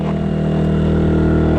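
A Ryobi portable generator engine running steadily under a 1500-watt load, a close, loud, constant droning hum with a fixed pitch and no talk.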